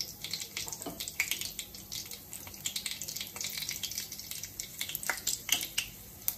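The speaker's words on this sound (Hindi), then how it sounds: "जीरा को अच्छे से लाल होकर फ्राई होने देते हैं।" Cumin seeds sizzle and crackle in hot oil in a pan, a steady dense frying hiss with many small pops throughout, cooking drumstick and potato curry.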